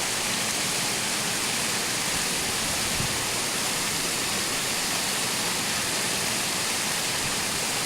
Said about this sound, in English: This is the koi pond. The waterfall.